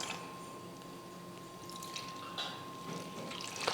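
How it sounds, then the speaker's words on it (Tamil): Water trickles little by little into bonda batter for a sweet bonda recipe, heard as soft, faint drips and splashes close by with no talking. "அதுக்கப்புறமா கொஞ்சம் கொஞ்சமாக தண்ணி சேர்த்து"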